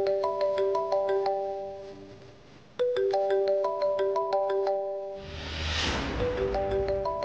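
A phone plays a melodic electronic ringtone, repeating bright chiming notes in two rising phrases at close range, and a soft whooshing swell near the end.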